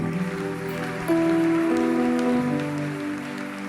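A church congregation claps steadily through an evening worship service, a dense wash of applause running under sustained musical tones.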